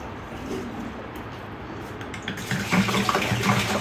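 Water is poured from a can into a metal pot, a soft gurgling stream that grows louder and fuller toward the end, close by, with faint bird calls in the background.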